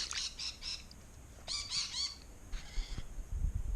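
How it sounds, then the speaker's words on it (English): Rainbow lorikeets give harsh, screechy squawks in short bursts, several calls clustered together at moderate distance, with faint low rumbling underneath and no talk. "But rainbow lorikeets, they pinching the bloody neighbours' nectarines."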